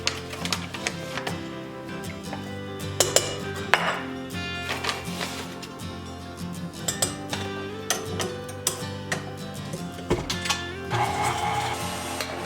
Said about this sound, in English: Here I'm just mixing the egg yolks with the sugar.